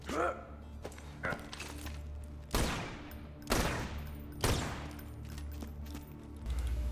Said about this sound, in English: Next is the Octo. Its special effect is that it has a unique firing pattern.